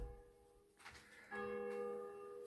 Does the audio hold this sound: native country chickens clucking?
no